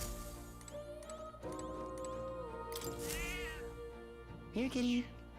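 A cat in the video game Metaphor: ReFantazio, giving a couple of short meows near the end over game music, with a voice talking earlier.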